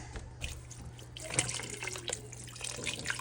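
Bone broth pours from a carton over venison osso bucco in a pot, a steady liquid gurgle and splash close by, with a few clinks of handling partway through.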